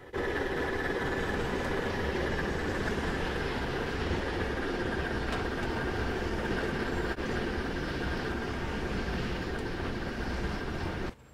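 A coal train rounds a curve in Cincinnati with a sustained, loud mechanical rumble and drone. It rolls on evenly for about eleven seconds, with faint squeals and clanks scattered through, then drops off abruptly at the end. No one speaks.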